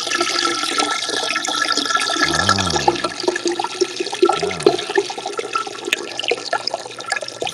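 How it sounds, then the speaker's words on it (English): A toilet flushes with a steady rushing, gurgling wash of water that runs for several seconds, with a couple of deeper glugs partway through. "Did you flush mid piss?"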